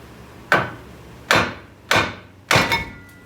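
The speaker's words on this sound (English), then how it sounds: "We're going to hit it with a hammer right on the steering knuckle." A hammer strikes the steering knuckle of a Dodge Ram to separate the ball joint: four sharp, loud metallic whacks about half a second to a second apart, each ringing briefly, the last one bouncing twice.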